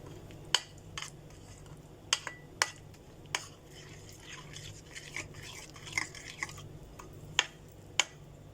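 Spice marinade for chicken being stirred in a bowl, a quiet wet scraping with scattered sharp clicks of a spoon against the bowl at an irregular pace.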